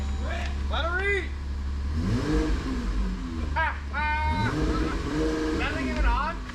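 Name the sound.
C6 Corvette Z06 engine revving to 3,000 RPM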